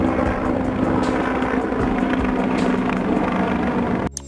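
A firefighting helicopter makes a loud, steady rotor and engine drone that holds unbroken for about four seconds, then cuts off abruptly.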